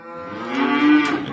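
A single cow lets out a long, loud moo close by, its low drawn-out call rising and then tapering off at the end.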